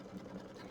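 A sewing machine stitches applique tack-down lines around fabric, a brief, quiet, steady mechanical whir heard on its own.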